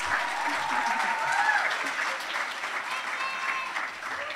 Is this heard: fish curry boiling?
no